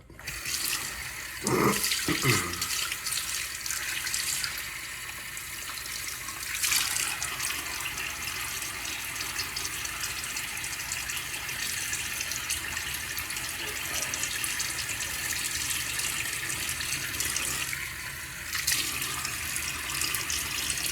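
A bathroom tap runs steadily while water is splashed onto a face before a shave. The hissing flow carries on close by for the whole stretch, with brief splashes near the start.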